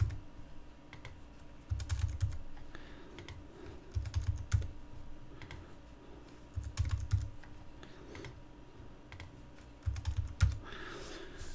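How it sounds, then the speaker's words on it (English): Typing on a computer keyboard, brisk bursts of light key clicks in short runs with brief pauses, close and fairly quiet, alone without speech. "So we'll just type in,"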